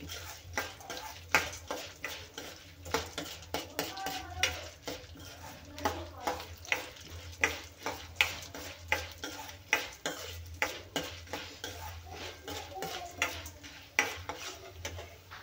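Chana dal dry-roasting in a pan for a tomato and onion chutney, with a rhythmic run of scraping spoon strokes and light rattling of lentils against the metal, steady and close.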